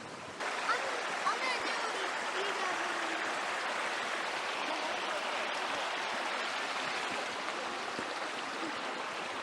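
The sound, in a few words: shallow stream flowing above Sixty Foot Falls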